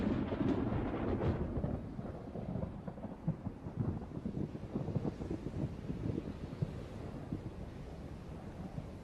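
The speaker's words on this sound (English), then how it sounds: "Throughout the summer, electrical storms roll across the desert, often shedding only drops of water." Thunder rolls across the North American desert during a summer electrical storm, a long low rumble with a sharper crack early on, then steady wind-blown crackle that stays distant and fairly quiet.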